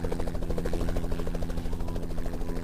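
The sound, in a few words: helicopter in Roblox video game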